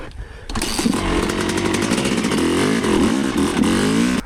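A Yamaha YZ125 two-stroke dirt bike engine in a blizzard starts abruptly and revs hard and loud, buzzing with rising and falling pitch, with no talking.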